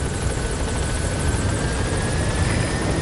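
A helicopter in the video game Big Boss Chronicles arrives at a landing zone, its steady rotor roar loud and continuous throughout with no talking.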